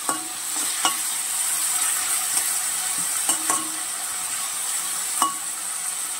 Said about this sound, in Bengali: বীজ ভাজাতে হবে, কাঁঠালের বীজটা ভাজা হবে